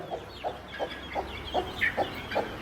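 A chick with crooked legs gives soft, high chirping peeps that repeat in a steady rhythm, about seven short calls, close by with no talking.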